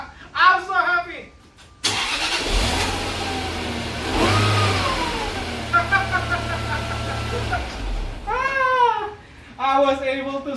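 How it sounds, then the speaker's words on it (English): A Jaguar car engine cranks and catches, then idles and revs up and down nearby; voices are heard before and after, with a speaker talking over it. "I was able to start this car."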